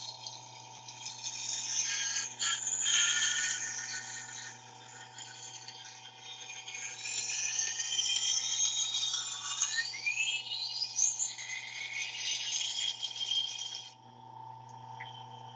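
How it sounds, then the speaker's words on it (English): A knife sharpening machine runs with a steady light hum under a continuous bright grinding hiss that rises and falls in passes like trickling water, close and even for about fourteen seconds before the hiss stops and the hum continues. "It's kind of like doing sharpening on whetstones, but with that light hum."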